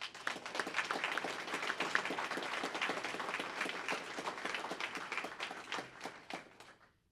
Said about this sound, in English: To give them a round of applause.